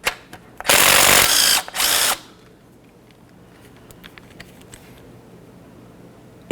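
Two short, loud bursts of a power tool or impact gun as a pair of 12mm bolts come off the transmission mount of a 2003-2007 Honda Accord, the second burst slightly shorter, followed by quiet workshop background.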